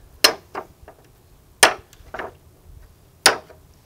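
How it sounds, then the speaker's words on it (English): A hammer strikes a metal punch to drive nails out of a wooden shipping pallet board: three sharp, close metallic blows, each followed by a softer secondary tap, with quiet gaps between them. "we're just going to go ahead and use the punch and the hammer for this"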